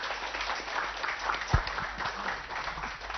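A seminar audience of agricultural extension workers gives a soft, muffled round of applause, a continuous thin patter of clapping heard from a distance.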